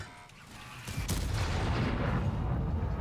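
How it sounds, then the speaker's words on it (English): Charged-up shot fired in a competitive video game match: a sharp blast about a second in swells into a loud, sustained rumbling roar that carries on to the end. "soon you'll see me like just randomly charge up a shot"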